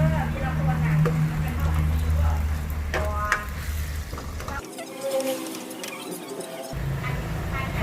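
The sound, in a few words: stir-frying pad thai ingredients in a pan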